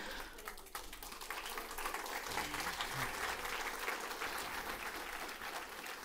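A church congregation applauding during a sermon service, continuous thick clapping that swells after the first second and holds steady, heard faintly at a distance.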